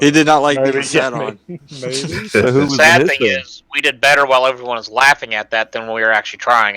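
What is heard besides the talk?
No everyday noises stand out.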